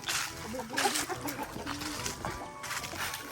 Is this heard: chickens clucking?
yes